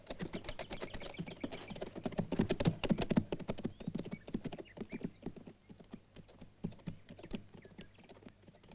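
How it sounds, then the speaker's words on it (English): Rapid clip-clop of several horses trotting close by in a film scene, a steady busy patter of hooves with faint voices mixed in. "Get the horses moving."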